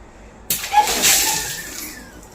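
A sudden splash as a bucket of water is dumped over the losing player in a backyard game, a sharp onset followed by a rushing, splattering wash that fades over about two seconds.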